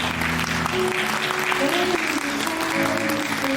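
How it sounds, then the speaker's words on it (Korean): Steady applause from a crowd at a wedding ceremony in a convention ballroom fills the whole stretch, with some voices and tonal sounds faintly underneath. "여러분 예쁜 가족분들께 아낌없는 박수를 전해주시기 바랍니다."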